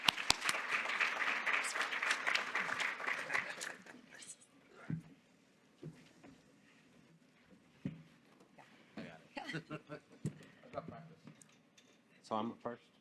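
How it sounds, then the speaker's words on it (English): An audience at a judicial summit gives a panel a round of applause that lasts about four seconds and then stops abruptly, followed by scattered thumps, rustling and quiet murmurs in the room. "a large round of applause, please."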